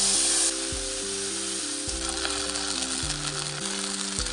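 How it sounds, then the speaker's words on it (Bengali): Nigella and mustard seeds dropped into hot oil left from frying fish, crackling in a steady close sizzle with a few soft utensil scrapes over it. "মাছ ভাজা হয়ে গেছে, কালো জিরে দিলাম, এবারে সর্ষেটা দিয়ে দিই"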